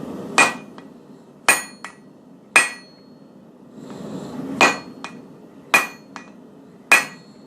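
Hot steel is hammered on an anvil while forging a hammer drift, sharp ringing blows landing in irregular clusters of one or two, loud and close with quiet gaps between strikes.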